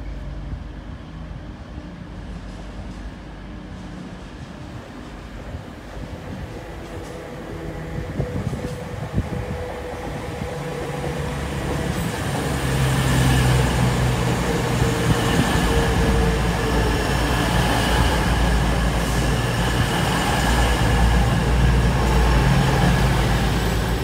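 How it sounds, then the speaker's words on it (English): An East Midlands Railway service from London St Pancras to Sheffield at Derby station, its low rumble starting faint and swelling into a steady, louder roar about halfway through as the train draws nearer. "Next up, the 1109 East Midlands Railway service from London's St Pancras International to Sheffield."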